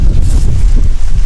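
Strong wind buffeting the microphone on a vegetable farm in Leyte during a typhoon's edge, a loud, close, low rumbling roar with gusty surges across a brief moment.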